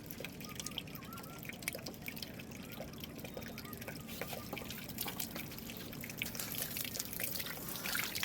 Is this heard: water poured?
yes